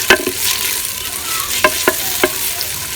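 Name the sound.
onion sautéing and frying with cumin and dry coriander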